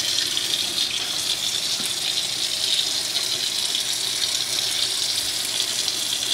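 A kitchen sink tap runs steadily while a small dog is washed in it, a constant close hiss of flowing water with no talk over it.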